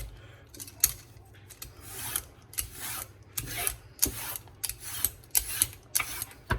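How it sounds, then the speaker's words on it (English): A carrot is peeled into long thin ribbons with a peeler, giving repeated close, bright rasping strokes at an uneven rhythm with no talk. "one cheat way is you just carry on peeling in long thin strips"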